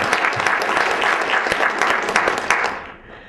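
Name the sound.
audience round of applause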